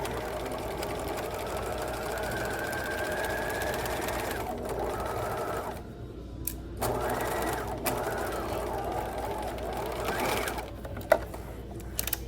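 A sewing machine runs almost without pause while stitching a continuous lap, its steady mechanical drone interrupted by a few brief stops and restarts.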